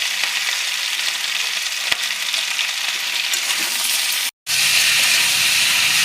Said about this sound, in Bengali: লবণ দিয়ে 1 মিনিট নাড়াচাড়া করে নিলাম।